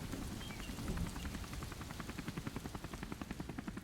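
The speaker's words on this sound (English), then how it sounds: "let's climb into our helicopter and get a better look from the sky" Helicopter in flight, a rapid rhythmic rotor chop that pulses steadily over a broad engine roar, fairly faint and constant with no talk.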